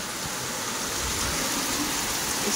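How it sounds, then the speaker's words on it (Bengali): A heavy monsoon downpour at a house roars as a dense, steady wash of rain, close and loud with no breaks and no voices. "জোরে বৃষ্টি হচ্ছে, অনেকদিন পরে এরকম মুষলধারে বৃষ্টি দেখবে"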